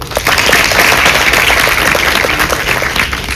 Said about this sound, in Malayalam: ഓക്കെ, CA സ്റ്റുഡൻസ് ക്ലാപ്പ് ചെയ്യോ?